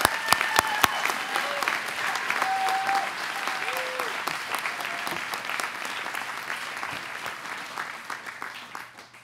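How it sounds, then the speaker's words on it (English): Applause from the audience at a 2014 Vermont Commons graduation ceremony, a dense, sustained round of clapping with a few sharp nearby claps at the start, slowly fading over about nine seconds. "So she certainly deserves a round of applause as well."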